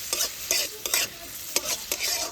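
Coconut shavings frying in hot ghee and oil, stirred briskly in a pan with a spatula, giving quick regular scraping strokes over a bright, steady sizzle, close up and without any voices.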